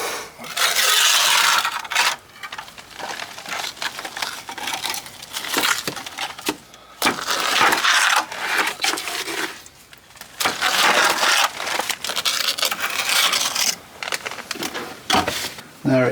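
Mortar scraped and packed into gaps in old cottage brickwork with a trowel, giving rough, gritty rubbing strokes in bursts with short pauses, close and fairly loud.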